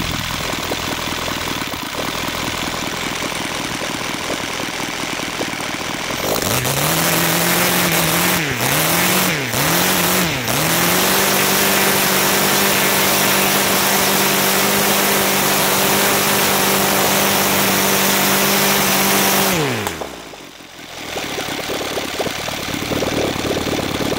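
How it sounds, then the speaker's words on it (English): An O.S. FF320 gasoline model engine with CH ignition, running on 7.4 volts, idles, then gives a few quick throttle blips, holds a loud, steady wide-open roar, and drops cleanly back to idle. "Really nice recovery to idle from full throttle."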